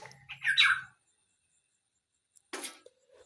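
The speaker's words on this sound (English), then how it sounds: "the bird come to window and calls loudly" A yellow bird calls loudly close to a window, giving a burst of harsh squawking notes, then a pause of near silence before a second short squawk and a fainter trailing call.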